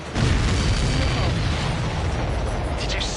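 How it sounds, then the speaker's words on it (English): A missile strike explodes in the Ace Combat 7 flight combat game as a loud, sustained boom and roar. The dense rumble holds steady for about three seconds, with possible faint radio chatter underneath. "Did you see that explosion? Looks like that's one of them down."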